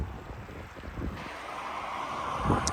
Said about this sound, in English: The stream seems a lot more better. You can hear it.